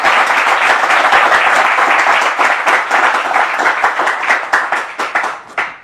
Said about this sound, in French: On applaudit très fort l'intervention